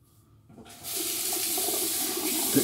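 Water running from a tap while shaving with soap, a quiet start that turns into a steady, close hiss of flow.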